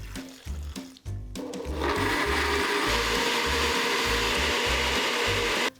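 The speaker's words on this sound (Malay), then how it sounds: "Kisar halus bahan-bahan ni semua, masuk dalam blender." A blender grinding chili spice paste starts with a few short bursts, then runs continuously at full power, loud grinding whir with a rhythmic chopping pulse underneath.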